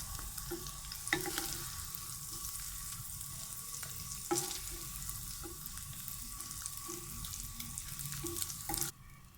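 Eggs fry in a pan for a chicken and egg breakfast, with a steady soft sizzle and occasional scraping stirs of a utensil, fairly quiet and close.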